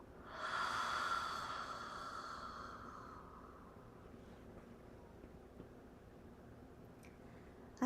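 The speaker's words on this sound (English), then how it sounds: "Breathe in." A slow, deep guided inhale through the nose swells for about two seconds then fades into a quiet hiss, followed by near silence.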